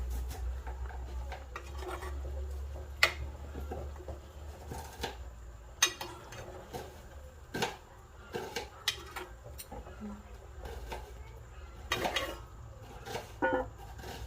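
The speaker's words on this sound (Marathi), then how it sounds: "आता आपण झाकण आहे ते काढून घेऊया. तुम्ही पाहू शकता आता आपल्या कालवणाला उकळी यायला सुरुवात झालेली आहे" A metal lid is lifted off a pot of simmering popat fish curry with potatoes in a home kitchen. Several sharp clinks and scrapes of metal on metal ring out irregularly over a low background hum.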